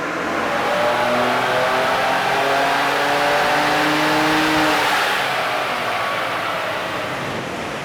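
A Ford Ranger Raptor twin-turbo V6 runs hard on a dyno at its speed cut, a loud, sustained engine roar whose tone rises and holds for the whole stretch, then eases slightly toward the end, with no talking.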